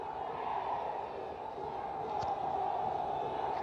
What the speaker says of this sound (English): You can hear the crowd in the background already cheering the home side on.